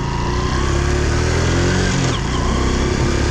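A 2011 Honda Super Cub 110 scooter on a test ride, its small engine droning steadily and close up with a slight rise in pitch partway through, no talking.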